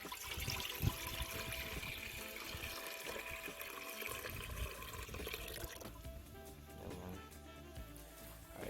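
Rich coconut milk pours into a pot set over an outdoor fire for a bush-cooked yam, dumpling and pumpkin curry, a soft continuous liquid stream running for several seconds before easing off.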